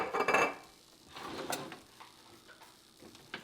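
Metal utensils clatter and clink as someone rummages through a kitchen drawer for a small spoon, with a loud jangle at the start and lighter scattered clicks after, close by and without talk.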